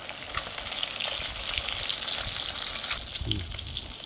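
Large roe-filled pieces of hilsa fish fry in plenty of oil, giving a dense, steady crackling sizzle close up with small popping spatters throughout.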